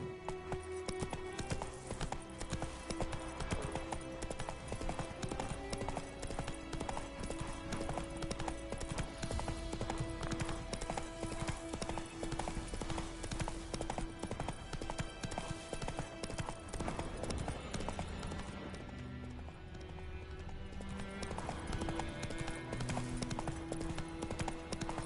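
Roach, the horse in The Witcher video game, galloping with rapid, continuous hoofbeats under a sustained musical score, the hooves and music both loud and steady, briefly thinning near the end.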